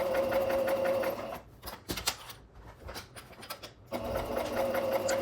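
Sewing machine stitching fabric slowly around corners, a steady mechanical whirr that pauses for about two seconds amid soft fabric handling and clicks, then resumes, close and moderately quiet with no voices.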